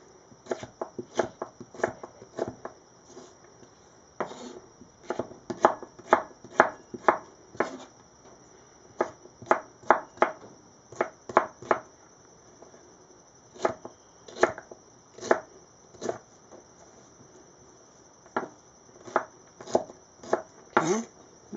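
Knife chopping vegetables into sticks on a cutting board for naturally fermented pickles, a long run of sharp, close chopping strikes in uneven bursts with short pauses, no voices.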